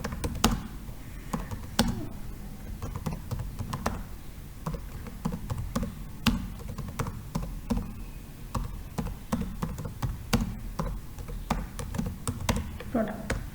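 Computer keyboard being typed on in an office setting, a quiet, near, irregular patter of key taps with occasional louder clacks, continuing steadily under a low background hum.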